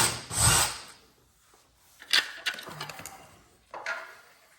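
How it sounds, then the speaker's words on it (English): A handheld power drill bores a pilot hole for mounting a swivel bike rack on a garage wall, heard in several short, moderately quiet bursts with pauses and small handling clatter between them. "Got my top pilot hole drilled"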